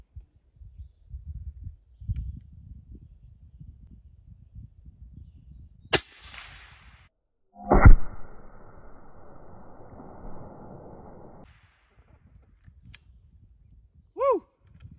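A single loud crack from an AirForce Texan .50 caliber big bore airgun firing a 350 grain hollow point slug into meat, followed by a mechanical rattle and low outdoor rumble, with a brief whoop near the end.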